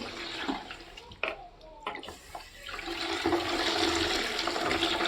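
Tea-leaf dye water rushes out of washed clothes into a sink, a steady loud drain and splash building after a few knocks and handling sounds.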